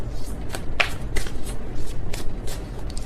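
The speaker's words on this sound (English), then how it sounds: "That was kind of a sloppy shuffle" A deck of tarot cards is shuffled by hand up close, giving a run of quick, papery riffling bursts with a few sharper snaps.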